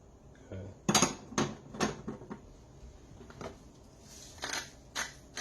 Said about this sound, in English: we'll pick this heat back up, stir everything around